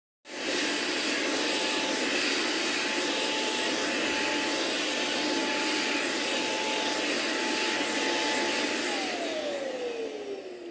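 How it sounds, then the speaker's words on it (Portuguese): A Sixxis Bravo S2 cordless stick vacuum cleaner runs with a loud, steady whine and a fixed high tone, then cuts out near the end as the motor spins down in a falling pitch, heard close up without talking. "eu estava usando o aspirador em casa e de repente ele parou de funcionar"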